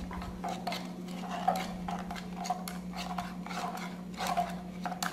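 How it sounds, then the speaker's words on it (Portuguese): A spoon stirring sugar and milk in a bowl for a blackberry pie, a soft, steady scraping and clinking of utensil against the dish over a constant low hum, with no talk. "Misturando o açúcar e o leite."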